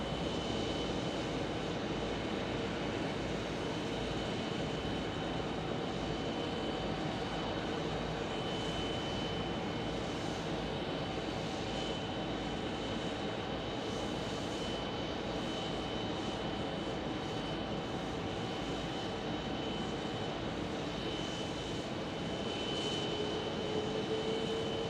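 Boeing 777 airliner landing at Phoenix Sky Harbor Airport after a flight from London, a steady broad engine roar heard from a distance, constant and unbroken throughout.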